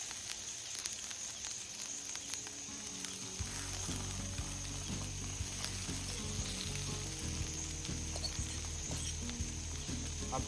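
Potatoes fry slowly on a homemade grill at breakfast, a steady close sizzle and crackle that swells louder after a few seconds and keeps up a continuous frying hiss with light popping, no voices.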